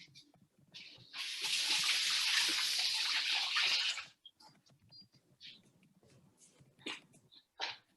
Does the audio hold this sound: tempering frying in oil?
no